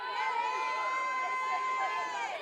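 Dense chanting and yelling from the dugouts at a Liberty vs. Longwood college softball game, a steady wash of many voices filling the ballpark continuously throughout.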